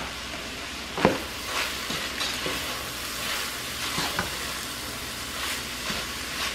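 Cuban picadillo being stirred with spices in a frying pan: continuous sizzling and frying under repeated scraping stirs, one sharper knock near the start, close and moderately loud, without any speech.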